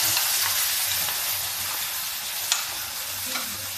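Fried spinach goes into a pan of browned onions for a dhaba-style palak dal and sizzles with a steady hiss, with faint stirring scrapes and a couple of small clinks close by.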